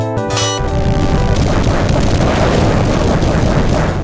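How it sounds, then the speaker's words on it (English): Explosion magic cast in the Golden Axe arcade game, a loud sustained rumbling blast that erupts after a brief musical sting and roars on steadily with crackling noise throughout. "and explosion magic as well"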